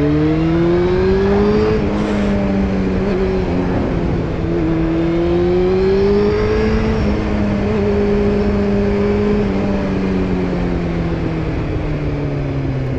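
Car engine revving up and pulling on a bumpy road, loud and steady throughout, the pitch rising and falling as the throttle opens and eases, with no talk over it.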